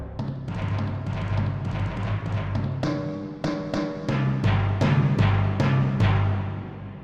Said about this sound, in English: And then we've got brand new timps.